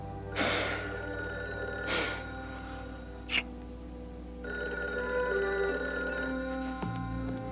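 A work telephone rings indoors, two distinct electronic ring bursts a second and a half apart over a steady room hum, followed by a brief click and a shift in the background tone.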